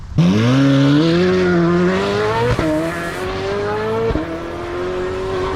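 A Corvette C8 Z06 accelerates hard, its engine note climbing through gears with loud, close revving and brief drops at each shift, running on without any talk.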